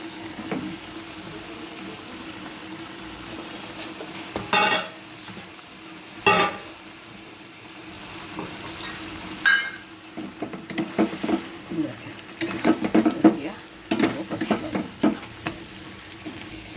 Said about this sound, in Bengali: দেখুন আমি সাতলাচ্ছি, এইভাবে আরও কিছুক্ষণ কষাবো।